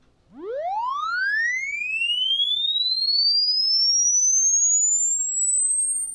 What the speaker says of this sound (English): So this is what that sweep sounds like.